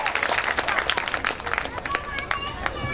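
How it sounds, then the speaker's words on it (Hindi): Audience applause for poet Pradip Choubey at an officers' club autumn festival poetry gathering, brisk uneven clapping with crowd murmur mixed in throughout. "जोरदार तालियां प्रदीप चौबे"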